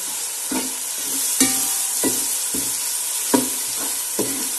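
Chopped onion and garlic sizzle steadily in a hot pan for Chicken Patiala, with a constant frying hiss and a rhythmic series of stirring scrapes and clacks, no talking.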